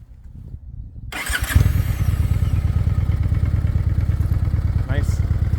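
A 2024 Honda Shadow Phantom motorcycle cranks briefly with a starter whir, catches and settles into a loud, steady, throaty idle rumble close by.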